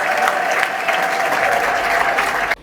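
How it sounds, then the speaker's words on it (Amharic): A church congregation claps loudly together in praise of the Lord during an apostle's sermon, a dense, continuous wash of hands with a faint sustained vocal tone underneath, cutting off abruptly near the end. "አሁን ለጌታ ክብር አጨብጭቡለት"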